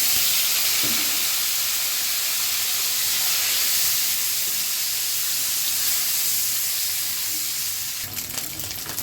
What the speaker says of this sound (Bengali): প্রথমে হচ্ছে ডিম সিদ্ধগুলোকে লবণ আর হলুদ একটু ফ্রাই করে নিব